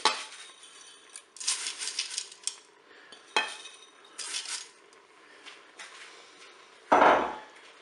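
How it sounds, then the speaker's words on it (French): Dry spaghetti strands, broken in half, dropped into the metal bowl of a Cookeo multicooker, giving scattered clinks and rattles with a sharper knock near the end, close and moderately loud with no talking. "maintenant je vais déposer mes spaghettis donc, que je coupe en deux euh, dans la cuve"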